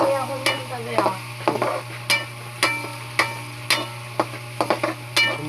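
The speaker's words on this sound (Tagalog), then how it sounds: "ginigisa ko na guys yung sibuyas at ang ating sili" Onion and chili sizzle in a pan for sisig while a utensil stirs and scrapes them, knocking in an uneven rhythm over a steady frying hiss, close by.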